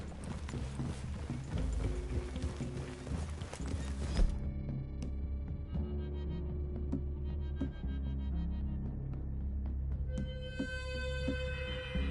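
Horses' hooves clip-clop steadily in a video game's woodland clearing, with occasional whinnies and soft mechanical clicks, under a quiet game soundscape and with no speech.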